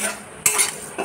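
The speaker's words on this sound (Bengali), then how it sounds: "সুজিটাকে একটু হালকা ভেজে নেবেন, বাদামি লাল করে একটু হালকা ভেজে নেবেন" Semolina is stirred and lightly fried in a pan, giving a soft sizzle under quick scraping strokes of a utensil, with a couple of sharper scrapes in a short burst.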